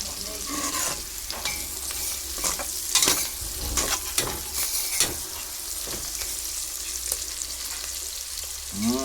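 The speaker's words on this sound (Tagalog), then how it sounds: "So, antayin na natin yung bawang na maluto siya." Garlic frying in a pan, a crackling sizzle with repeated scrapes and stirring knocks from a utensil, close up and continuous.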